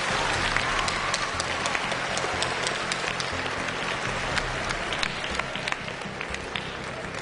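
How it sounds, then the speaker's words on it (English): Audience at a school board meeting gives families, teachers and school staff a long round of applause, dense steady clapping throughout with a few louder individual claps and some crowd murmur beneath. "please turn to your family members, teachers, and the rest of the school staff and give them a great big round of applause"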